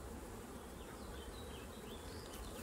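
Carpathian honey bees swarm around an open hive, a dense, steady buzzing drone with individual bees whining past close by, fairly soft overall and with no voices.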